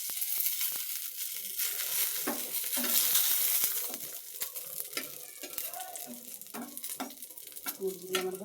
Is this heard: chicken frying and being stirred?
yes